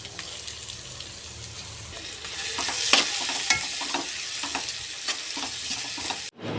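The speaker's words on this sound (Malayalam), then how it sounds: "ഇനി ഇതിനകത്തിലേക്ക് നമ്മൾ അരിഞ്ഞു വെച്ചിരിക്കുന്ന തക്കാളിക്ക ചേർത്തിളക്കാം" Chopped tomatoes stirred into sautéing onion, ginger, garlic and chilli for a clam roast, giving a steady close sizzle with soft scraping stir strokes throughout and a brief dropout just before the end.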